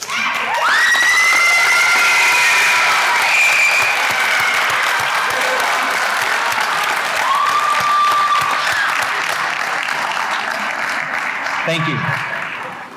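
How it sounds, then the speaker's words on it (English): Graduates at a middle school graduation applaud their parents and guardians, with sustained crowd clapping mixed with cheers and shouts. A speaker's voice comes through near the end as the applause fades. "guardians a round of applause"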